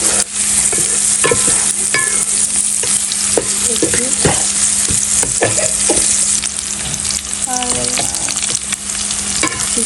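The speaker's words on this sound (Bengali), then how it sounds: "এই জন্য একটু পেঁয়াজ মরিচ দিয়ে দিচ্ছি।" Onion and chili sizzling loudly in hot oil in a pan while luchi is being cooked, a steady dense frying hiss with repeated clinks and scrapes of a spatula stirring throughout.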